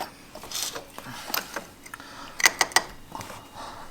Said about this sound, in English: we're going to go ahead and take off the radiator cap